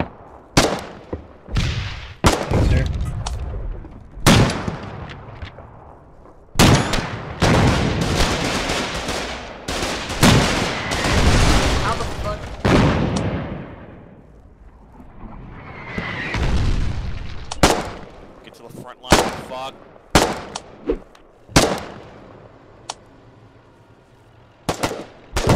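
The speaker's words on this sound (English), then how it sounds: "The artillery is quite accurate." Artillery and gunfire in the war game Foxhole, heavy booming blasts and rattling bursts of shots arriving in irregular clusters, loud and near, with quieter gaps between volleys and no talk.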